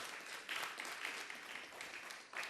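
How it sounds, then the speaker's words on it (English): Applause from an audience at a public lecture, a steady wash of many hands clapping at moderate distance with no voices over it. "So a round of applause for that."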